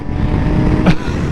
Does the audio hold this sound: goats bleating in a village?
no